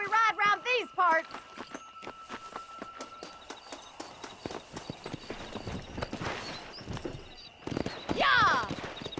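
Horse hooves clip-clopping and galloping in Red Dead Redemption, a quick rhythmic beat with whinnies at the start and end, under a speaking voice.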